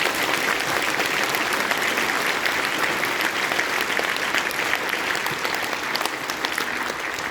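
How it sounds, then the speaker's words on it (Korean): Conference audience in Korea applauding together, a dense steady wash of many hands clapping at moderate loudness for several seconds, with no talk over it. "하나님께 한번 감사의 박수 올려주시면서"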